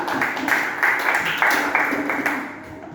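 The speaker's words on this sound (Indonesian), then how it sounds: "Tepuk tangan" A class of pupils in a religious education lesson applauds together, a dense, steady patter of many hands clapping for about three seconds before trailing off.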